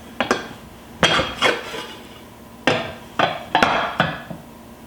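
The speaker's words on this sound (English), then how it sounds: "I'm going to take my plate, put it over the top." A plate set over a skillet of sweet onion upside-down cornbread, giving a series of sharp clattering knocks and clinks of dish against pan, about six close, loud impacts spaced irregularly with no talk.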